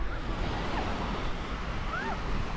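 Gentle ocean waves near Naples, Florida, at sunset: a steady, soft wash of surf with light wind, with no distinct breaks, heard alone.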